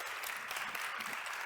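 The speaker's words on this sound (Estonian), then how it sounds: "Bravo! Aplaus!" Audience applause following a talk on depression and conscious change, dense steady clapping filling the whole moment without pause, loud and close.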